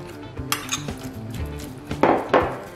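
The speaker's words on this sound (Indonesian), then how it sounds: "Kita aduk dulu." A spatula or spoon stirs shrimp and minced chicken in a pan for restaurant-style fu yung hai, with a few sharp metallic clinks and scrapes against the pan over a low, steady kitchen background.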